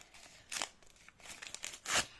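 A small paper bag crinkles and tears as it is opened by hand, with a few quiet, sharp bursts of crackling and ripping separated by brief pauses, heard close up.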